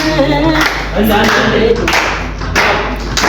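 Rhythmic clapping along with a song at an Ethiopian Easter cultural celebration, steady hand claps keeping time with music and singing, close and lively over the whole stretch.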